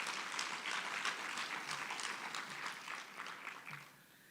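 Applause from the audience at the SATVETSA student leaders conference 2025, a fairly faint, distant patter of many hands clapping that gradually tapers off toward the end.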